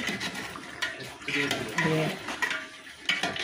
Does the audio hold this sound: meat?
yes